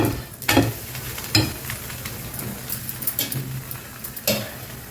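Halwa bobbatlu fry on a flat pan with a soft continuous sizzle, broken by several sharp scraping and tapping clicks of a spatula against the pan.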